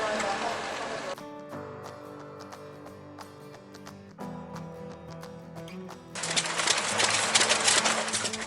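Several old stationary engines run together in a lineup, their steady mechanical chugging and tonal hum holding throughout, joined near the end by a louder burst of hissing, rushing noise.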